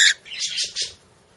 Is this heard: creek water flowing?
no